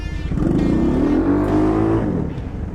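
A Chinese off-road tractor driving in reverse gear, its engine droning loud and close with a rising, straining pitch that eases off near the end, no voices over it.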